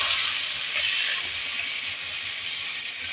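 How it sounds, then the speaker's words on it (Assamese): Mustard seeds spluttering in hot oil for a fish curry, a steady close crackling sizzle that fills the whole moment without any voices. "মই সৰিয়হখিনি এনেকৈ মই ফুটাই ল'লোঁ।"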